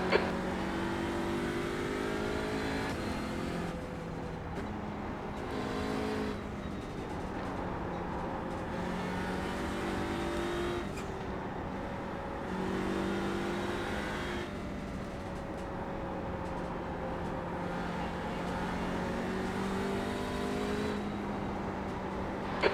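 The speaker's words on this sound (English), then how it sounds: "There's a faster car approaching." A race car in iRacing, with BMW and Audi TCR machines on track, drones steadily with engine harmonics rising and falling through gear changes as a faster car closes in and passes, loud and continuous with no talk.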